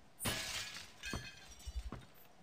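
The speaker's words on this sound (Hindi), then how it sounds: "ये भाई इसको शीशे को फोड़ते हैं" Glass shattering in the horror game Mr Meat: a loud crash with a bright spray of falling shards, then two smaller tinkling breaks close by, with no talk.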